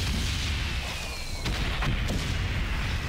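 Video game gunfire plays as a faint, muffled booming over a low rumble, with two or three sharper shot bursts near the middle.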